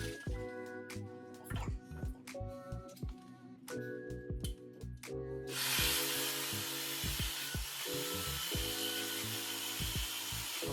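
Sawzall reciprocating saw cutting a stainless steel exhaust tip braced on wood, heard as steady rhythmic rasping strokes up close that turn into a loud, dense, continuous grinding roar partway through.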